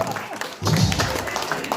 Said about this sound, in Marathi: पप्पांसाठी जरा जोरदार टाळ्या झाल्या पाहिजे